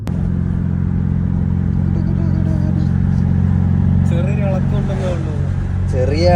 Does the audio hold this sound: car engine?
yes